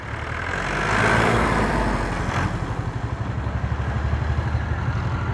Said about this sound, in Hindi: ये ट्रैक्टर जी मुड़ गया यहाँ से।